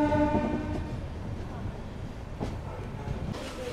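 The Andaman Express with LHB coaches pulls out of Tenali Junction, opening with a loud horn blast that gives way to a continuous close rumble of rolling coaches.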